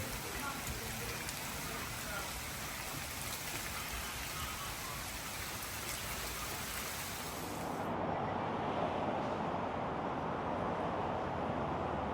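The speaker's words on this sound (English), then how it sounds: "It's raining." Steady rain hisses continuously outdoors in Kansas City, a dense even wash of drops that grows slightly heavier partway through.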